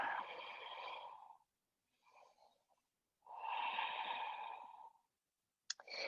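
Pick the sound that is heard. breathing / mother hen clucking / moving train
breathing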